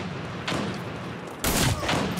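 Gunfire rings out in the online military shooter game America's Army, with two sharp, loud reports, a lighter one followed by a heavier blast, each trailing off into a noisy echo.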